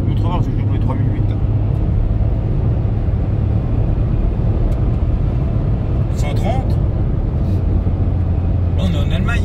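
A car powered by a Peugeot 1.2 PureTech engine accelerates hard to overtake on a German road, a loud steady engine and road roar filling the cabin throughout.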